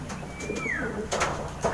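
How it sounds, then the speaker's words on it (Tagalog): A training pigeon coos once, soft and close, against a faint outdoor background with a brief higher call near the end. "Ayan yung ibon natin mga kapatids."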